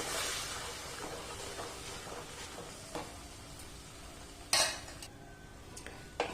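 Jaggery and flour being stirred together in a pan, a soft scraping and clinking of the spoon against metal, fairly quiet and close, with one sharper knock partway through.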